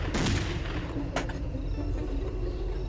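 Bursts of video game gunfire crack out close and loud, with a dense volley early on, a sharp single shot about a second in, and steady rumbling game noise continuing beneath.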